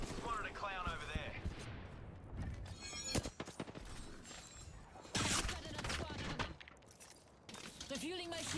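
Bursts of gunfire in a battle royale game, with scattered sharp shots and rattling volleys mixed among mechanical clicks and game effects, while a voice talks over the action.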